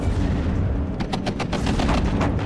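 Gunfire in the war strategy game WARNO cracks out in a rapid burst of shots under a rumbling low battle din, with individual reports clustered around the middle of the moment.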